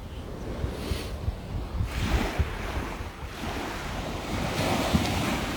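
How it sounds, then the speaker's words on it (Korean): Ocean waves wash and break steadily along a shore where someone wades, a continuous rolling surf under gusty wind buffeting the microphone, with no voices. "이 파도가 치는 이게 정말 정말 좋은 에너지가 여기서 발생한대요"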